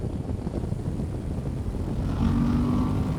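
Suzuki V-Strom 1050 XT motorcycle engine at around 5,000 revs while riding, a steady droning engine note under wind rush that rises in pitch and grows slightly louder near the end.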